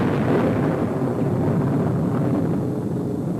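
Atomic bomb explosion at the Trinity test near White Sands: a loud, continuous low rumbling roar that holds steady for several seconds with no talking.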